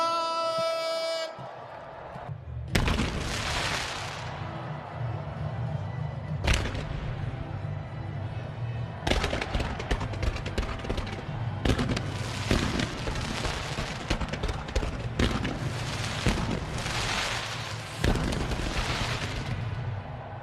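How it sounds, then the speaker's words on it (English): Fireworks at a cricket match between the Invincibles and the Trent Rockets go off as a loud run of sharp bangs and booming bursts, some isolated and some in dense clusters, over a steady low rumble of crowd and stadium noise. "Fireworks done, talking done, time for the action to begin."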